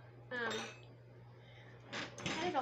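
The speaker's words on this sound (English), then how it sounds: "We're going to add this ice right into this blender" Broken-up ice for a vanilla ice-cream shake is tipped into a blender jar, giving two close, clattering bursts of cubes knocking against the container with a quiet pause between.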